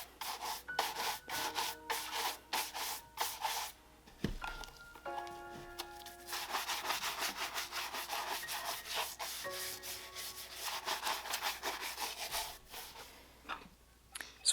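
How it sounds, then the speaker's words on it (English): Brisk back-and-forth bristle brushing on leather dress shoes coated with cream polish, a steady close rubbing rhythm with short pauses and no talk. "Going to give the shoes a quick brushing after applying some of that cream polish."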